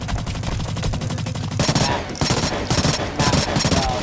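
Rapid automatic gunfire in a shooter video game, dense bursts of shots at close range, loud and continuous with a brief change in character midway, no talking.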